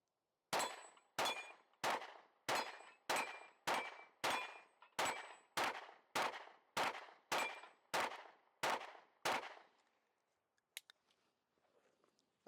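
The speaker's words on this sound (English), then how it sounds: "just shooting 124 grain AAC standard pressure" Rapid, evenly spaced gunshots fired with 124 grain AAC standard pressure ammunition, a string of about fifteen sharp loud reports with short decays, followed by quiet and a few faint clinks.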